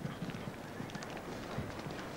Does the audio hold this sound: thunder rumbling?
no